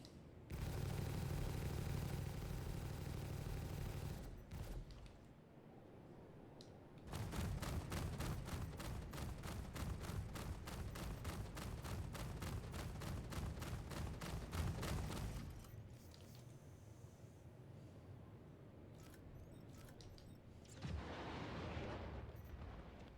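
Rapid crackling bursts of fireworks in a space-flight video game, loud dense volleys of pops and booms with a long sustained barrage in the middle, tapering to quieter scattered bangs.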